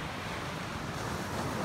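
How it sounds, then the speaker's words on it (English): Ocean surf washing in steadily at a beach fishing spot, a continuous broadband wash with wind noise buffeting the microphone and no voices. "Was it the waves, bro? Just the waves, man."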